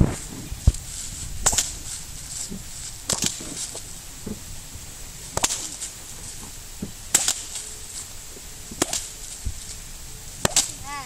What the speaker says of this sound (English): Yeah, the crack, right? The crack of a whip,